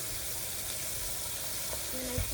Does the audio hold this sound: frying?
yes